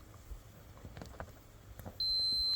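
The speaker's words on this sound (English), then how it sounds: "Hear the beep?" A multimeter set to continuity mode sounds a steady high-pitched electronic beep as its probes touch a fuse during testing, and the tone holds unbroken to the end after some faint handling noise.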